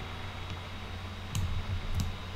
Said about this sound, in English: I hit 1 on my keyboard.